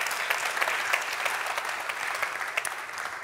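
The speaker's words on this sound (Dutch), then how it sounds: "Dus nogmaals een heel groot applaus daarvoor." An audience at a public academy event on child poverty in Friesland breaks into loud, sustained applause, a dense even patter of many hands that continues steadily throughout.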